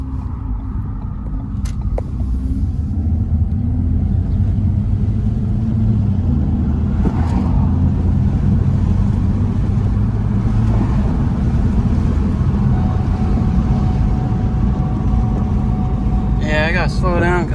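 2015 Ford Focus fitted with a K&N intake driving along, a constant loud engine rumble and road drone with rising throttle swells, someone talking over it throughout.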